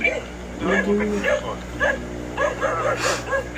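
Small dogs in a night-time horror scene yip and bark in short, excited bursts over a steady low background hum, with whimpering notes mixed in.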